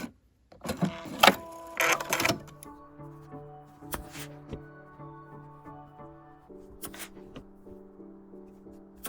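A sewing machine straight-stitches a T-shirt neckline with a universal 80/12 needle and regular thread, running in short bursts of steady whirring hum, close by, with some handling clatter and rustle of fabric at the start.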